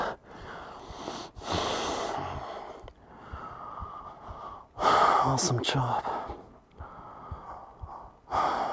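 Deep yoga breaths come in long, airy inhales and exhales, close and fairly loud, separated by short pauses, with a brief spoken remark between them.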